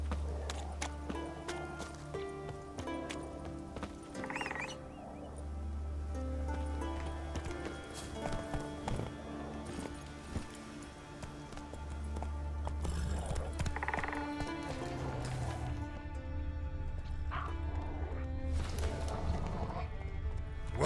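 Roach, a horse in a video game, trots with a steady clip-clop of hooves and lets out brief whinnies, set against a continuous background score and a little speech.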